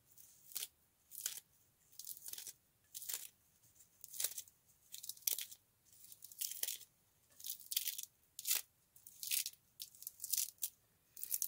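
Plantain (tansagem) leaves chopped into small pieces for a mixed salad of wild edible plants, giving a steady run of crisp, close knife chops in even rhythm, roughly one per second, with quiet pauses between and no talk.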